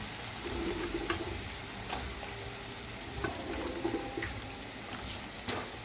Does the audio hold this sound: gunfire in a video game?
no